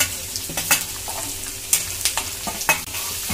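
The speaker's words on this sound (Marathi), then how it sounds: "हे बघा तो कांदा पण व्यवस्थित फ्राय करून घ्यायचा आहे तेलात" Onion frying in oil in a pan for Nagpur-style tari poha: a steady close sizzle broken by a string of sharp spatula scrapes and clacks at irregular intervals, with no talking.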